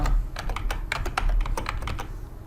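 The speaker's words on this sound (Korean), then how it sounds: "컨트롤 키를 누르고 엔터 키를 눌러도 되고" Computer keyboard keys pressed in a quick run of crisp clicks and taps, close and clear with no talking, as Control and Enter are hit while working in After Effects CC 2021.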